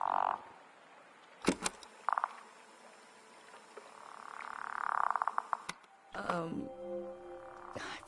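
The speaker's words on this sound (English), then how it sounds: "The frog." Frog croaks in a video game, Season: A Letter to the Future on PS5, sounding as a few short rhythmic bursts between quieter ambient stretches, with a louder croaking passage near the end.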